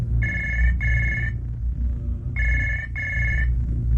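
A telephone rings in two double bursts, a loud electronic trill with a pause between pairs, over a low background hum.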